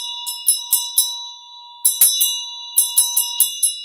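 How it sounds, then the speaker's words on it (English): A small bell rings in a ceremony, bright metallic strikes in two quick clusters separated by a pause, each tone ringing and decaying, close and clear with no talk. "So here's the toning of the bell"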